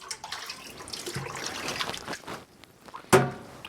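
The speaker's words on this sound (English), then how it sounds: "You want to wet your hands." Water trickles and splashes softly as hands are wet for kneading pizza dough, an irregular close-up dribble ending in a sharper splash.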